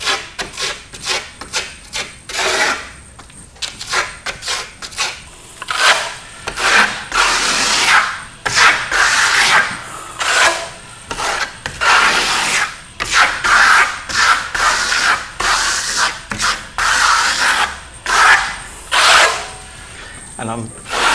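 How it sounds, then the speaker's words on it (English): Trowel spreading FirmoLux Piatto plaster finish in thin coats, giving repeated rasping scrapes in a steady back-and-forth rhythm, close and fairly loud, with someone talking between strokes. "using the angle of the trowel to create the same amount of material at a time as we can"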